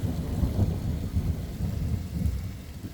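Low rumbling thunder rolls through a spring rain in a backyard, a continuous deep grumble with soft swells, fairly distant, under a steady wash of rain and no voices.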